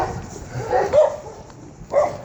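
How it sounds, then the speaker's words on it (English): Several dogs bark in a quiet neighborhood street early in the morning, heard from a distance as a few separate muffled bursts over low background hum. "on this neighborhood there's like so many dogs"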